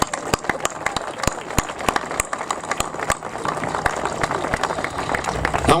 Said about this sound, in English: So I just want a round of applause for all 4 of those key groups.